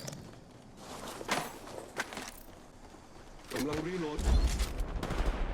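Shotgun blasts in a solo ranked online shooter game: several sharp, punchy shots go off amid game noise and scattered footsteps, with a person talking over the action.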